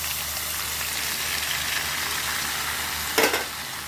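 Marinated chicken in a hot pan, a steady dense sizzle and crackle of frying throughout, with a brief louder clatter near the end.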